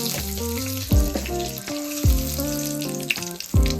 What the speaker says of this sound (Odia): ତେଲରେ ଆମେ ଅଳ୍ପ ଦିଟା ଜିରା ଦେଇଦେବା।